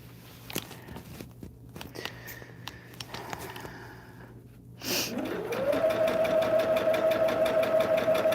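Sewing machine stitching a Hunter Star quilt: after a few quiet seconds of faint taps and small handling noises, the motor starts and settles into a steady, fairly loud run of rapid stitches that continues to the end.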